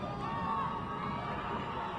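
Crowd noise at a high school boys basketball game in a gym, a steady roar of cheering and shouting voices at moderate distance, continuous throughout.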